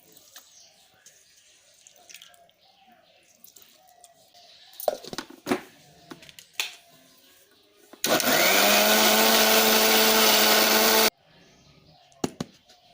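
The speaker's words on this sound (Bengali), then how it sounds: "এই মিক্সচার ব্লেন্ডারের মধ্যে পালং শাকগুলো ব্লেন্ড করে নেব" Mixer blender whirring through spinach leaves, a steady loud motor drone of about three seconds after scattered kitchen clatter and handling noises, then stopping abruptly.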